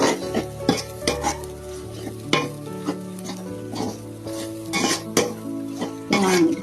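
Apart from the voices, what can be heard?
stirring and mixing kottu roti in a pan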